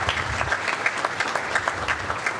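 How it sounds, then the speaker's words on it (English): An audience at a school board meeting applauds steadily for scholarship winners, a dense patter of clapping that holds without letup. "So I think those scholars deserve a round of applause"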